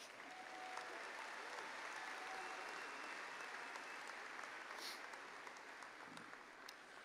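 An audience at a spring university commencement ceremony applauds the graduates with steady, sustained clapping across a large hall, fairly faint and distant, with no voices over it.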